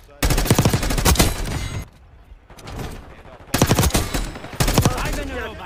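Rapid automatic M4 rifle fire in a Black Ops 6 match on the Babylon map, loud sustained bursts broken by a short quieter gap, with faint game noise between volleys.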